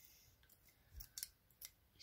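Scissors snipping repeatedly at a plastic 3D pen creation without cutting through. The clicks are faint and close, in an irregular string of small blade snaps, with no voices.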